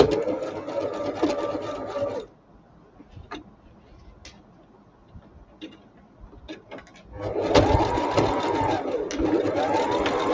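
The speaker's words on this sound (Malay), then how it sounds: "jahit dekat bahagian 2 inci tu, yang ini reverse banyak kali" A sewing machine runs in short bursts, stitching elastic onto an awning and reverse-stitching back over it. A steady mechanical whir is close and loud, breaks off into quiet with faint handling clicks, then starts up again.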